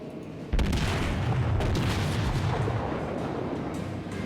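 A battleship's rear guns in World of Warships let off a sudden heavy blast, followed by a long rumbling roar that slowly fades, close and loud with no talk.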